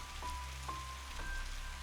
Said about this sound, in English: The light drizzle overhead, gradually evolving into a full-on shower